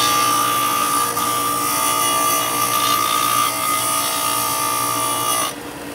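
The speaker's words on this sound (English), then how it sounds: "I prefer to sand it or grind it as opposed to cutting it" A power tool grinds steadily on a metal part of a defective Masterbuilt Gravity Series charcoal grill rotisserie, a loud continuous whine with a high tonal edge that holds for most of the stretch before dropping off near the end.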